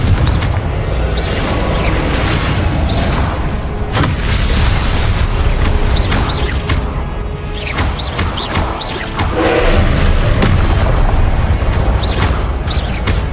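Confringo and Incendio fire spells from Hogwarts Legacy on Xbox Series X, a loud, dense run of booming blasts, crashes and crackling impacts that keeps going throughout with no spoken words.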